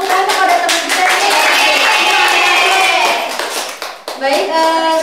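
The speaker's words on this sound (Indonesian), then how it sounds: "Beri tepuk tangan kepada teman kita ini" A classroom of students claps for a classmate after a microteaching presentation, loud, dense applause close by for several seconds, tapering briefly before a short renewed burst, with children's voices mixed in.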